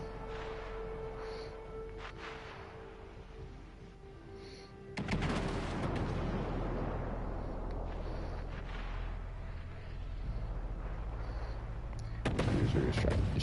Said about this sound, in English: User is shooting at the battleship.